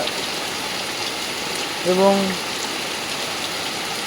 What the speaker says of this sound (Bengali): একদম বৃষ্টি হচ্ছে খুব মুসলধারা বৃষ্টি